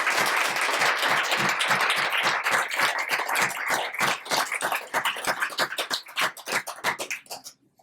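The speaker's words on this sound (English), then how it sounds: "we owe an honoring and a round of applause for the people who provided that for us" Audience applause at an International Women's Day celebration, a dense burst of clapping from a room of people that thins into separate claps and fades out near the end.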